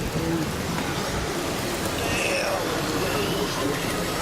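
Hail pelts down during a storm chase in Mankato, Minnesota, a dense steady roar of ice striking surfaces close by, loud and continuous throughout.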